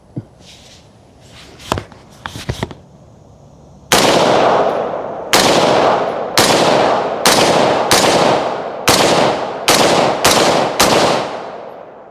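A Smith & Wesson M&P rifle fitted with a forced reset trigger fires outdoors at a range after a few handling clicks: roughly ten loud, sharp shots come in quick, slightly uneven succession, each trailing a brief echo.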